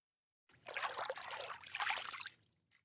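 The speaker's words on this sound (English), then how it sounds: "crouching down to allow her fingers to graze across the surface of the water" Fingers graze across the surface of water in a fountain, giving a soft, close trickling splash that runs for about two seconds with a brief lull in the middle.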